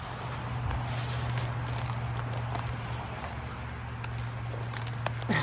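Footsteps pushing through rain-soaked weeds at night near an old mill, a soft continuous swishing and pattering of wet foliage with a few sharper rustles near the end, close and fairly quiet.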